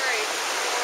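River water rushing broadly through the Zion Narrows canyon, a steady full wash of flowing water that holds constant and close throughout.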